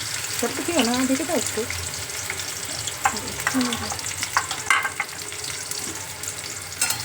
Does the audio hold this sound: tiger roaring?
no